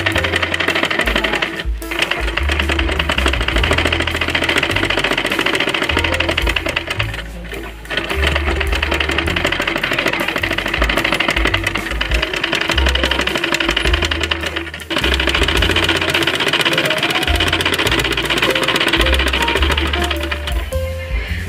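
A sewing machine stitching a child's umbrella frock, a fast continuous mechanical clatter and whir that runs loud and steady with a couple of short pauses.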